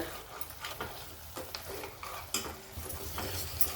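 Ground masala paste for dum aloo sautéing in oil, a soft continuous sizzle with repeated spatula strokes and scrapes against the pan, fairly quiet and without speech.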